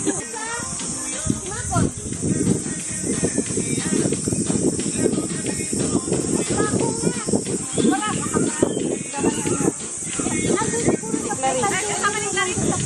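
Gas hisses steadily from a portable stove at an outdoor meal, a constant high hiss running under lively overlapping talk and laughter from several people.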